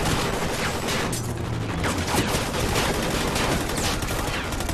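The player's automatic weapon fires in a continuous, loud, close burst of gunfire in the Call of Duty: Ghosts campaign, packed densely with no clear gaps.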